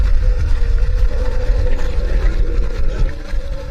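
Motorcycle engine on a highway ride from Kadapa to Bangalore, a loud, continuous low rumble mixed with wind buffeting, steady with no talk.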